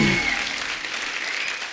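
An audience at a stage show bursts into loud, dense clapping that rises at the start and then holds steady as a continuous wash of applause, with no voices over it.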